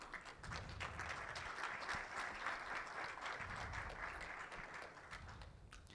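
Audience applause during an online certification ceremony broadcast, steady, moderately faint clapping from a group that holds for several seconds and tapers slightly at the end.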